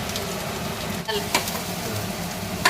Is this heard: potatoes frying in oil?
yes